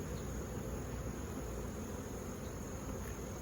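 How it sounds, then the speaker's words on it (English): Honeybees buzzing steadily around an open single-brood-chamber hive during an autumn inspection, a dense continuous hum close by with no talk. "Look at the bees on top."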